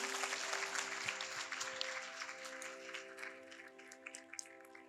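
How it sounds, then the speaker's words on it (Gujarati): An audience at a university talk event claps to welcome the president, sustained hand-clapping from a crowd, fairly faint and distant, with a low steady hum beneath it. "પ્લીઝ આપણા પ્રેસિડેન્ટ સરને તાળીઓથી વધાવી દો."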